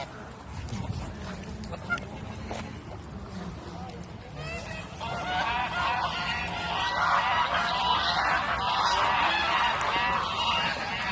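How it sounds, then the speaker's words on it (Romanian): Geese honking while being hand-fed bread in Tineretului Park, Bucharest, a growing chorus of loud overlapping honks from close by, with a person talking at the start. "Deci asta a fost filmarea de la gâște din parc."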